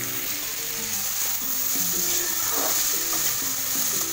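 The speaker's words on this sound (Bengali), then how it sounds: "এগুলো আর একটু ভালো করে ভেজে নেব।" Grated carrots frying in a pan, a constant bright sizzle with occasional stirring scrapes, heard close and alone without any voices.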